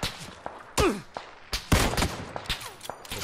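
Gunfire in the battle royale game PUBG: a string of sharp separate shots, some loud and close and others quieter, spaced irregularly over a few seconds, with little talk.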